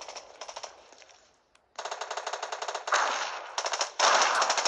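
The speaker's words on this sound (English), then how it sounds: "I'm hearing gunshots" Rapid bursts of automatic gunfire in the video game Fortnite, in quick rhythmic volleys, with a brief pause before louder sustained bursts.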